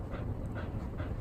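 A hot dog lying on a floor vent in summer pants in rapid, soft, continuous breaths, close by and fairly faint, with a low steady hum underneath and no talking.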